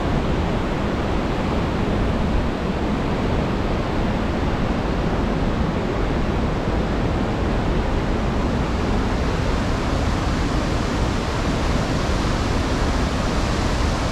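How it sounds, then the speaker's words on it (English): Waterfalls on the Mekong River at the 4000 Islands in Laos during rainy season, a powerful continuous roar of rushing water that stays steady and loud throughout with no talk. "You can see how crazy the waterfalls are from here."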